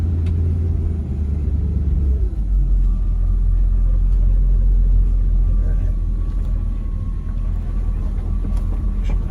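A bagged 1960 Eureka Cadillac hearse cruises through a neighborhood, its engine a deep, steady, close rumble that grows heavier after a couple of seconds, with a faint whine riding above it.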